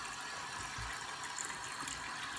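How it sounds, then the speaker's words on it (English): Water runs steadily from a tap into a slow-draining sink, a constant soft hiss and trickle at low volume throughout, with no talking. "you want to get a little water in it"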